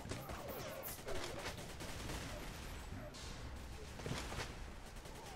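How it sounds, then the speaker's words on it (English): Rapid weapon fire from a mortar launcher in the first-person shooter game Xonotic, a dense stream of repeated bursts and blasts at steady loudness, with a faint voice talking underneath. "I've got the mortar launcher here, just cruising around, trying to find someone to kill"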